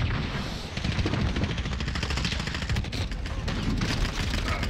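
Rapid automatic gunfire from a Modern Warfare multiplayer match, a dense continuous rattle of overlapping shots that runs the whole stretch at steady loudness, with game sound effects mixed in.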